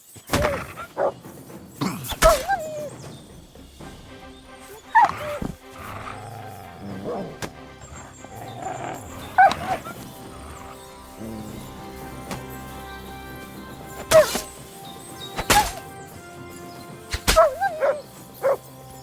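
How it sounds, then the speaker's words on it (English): A dog barks in Kingdom Come: Deliverance 2, a medieval role-playing game: several short, sharp barks come in scattered bursts, fairly close, over low ambient game sound and music. "What is it, Mutt?"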